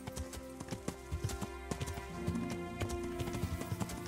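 Horse hooves clip-clop in steady, uneven beats in Kingdom Come: Deliverance as the rider follows a river, close and fairly loud over a constant game ambience.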